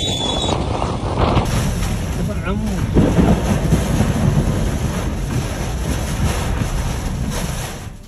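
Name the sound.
thunder and heavy rain storm in Mecca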